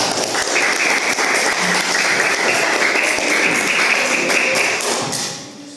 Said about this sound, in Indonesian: Dan tepuk tangan untuk kelompok 3.